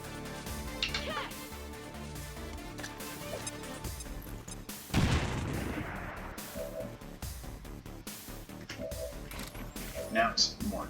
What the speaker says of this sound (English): We're gonna grenade this thing.